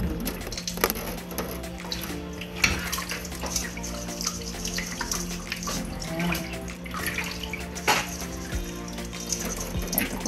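Tap water running and dripping through a drainer while tocino is prepared in a home kitchen, a continuous splashing trickle with scattered sharper drips and clunks, close and steady, no talk.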